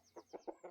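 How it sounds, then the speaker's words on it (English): Chickens clucking in the video game Shatterland, four short, evenly spaced clucks close up with a faint high whistling tone drifting above them. "I kept getting more and more chickens."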